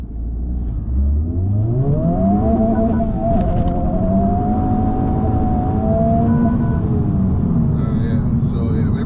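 A Honda Civic Type R (FL5) launching hard in R mode on a cold road with traction control off, engine note climbing steadily in pitch as the wheels spin, loud and continuous inside the cabin.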